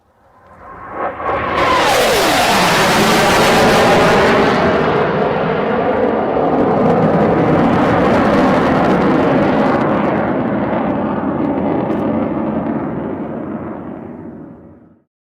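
An aerobatic aircraft in the Roblox video game makes a high-speed flyby, a loud engine roar that swells quickly and holds for over ten seconds before fading out.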